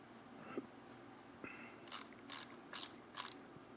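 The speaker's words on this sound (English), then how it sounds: "Now tighten that bolt." A ratchet tightening a bolt during a build, heard as four quick, close clicking bursts in steady succession after a couple of faint knocks, quiet with no talking.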